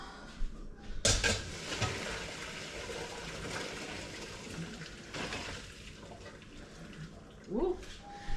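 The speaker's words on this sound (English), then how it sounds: "Drain our pasta." Boiled pasta is poured into a colander in a kitchen sink, a rushing splash of water lasting several seconds, with some louder gushes and a brief voice near the end.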